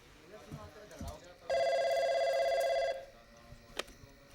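A telephone rings in one sustained electronic trill burst lasting about a second and a half, fairly loud and clear, between quiet indoor movement and faint voices before and after.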